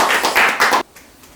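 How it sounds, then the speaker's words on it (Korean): Clapping at an online general meeting of an alumni association, a few quick hand claps from a single source that stop abruptly after under a second. "우리 모두를 향해서 우리 고생하셨고 수고하셨다고 박수로 한번 보내드렸으면 좋겠습니다"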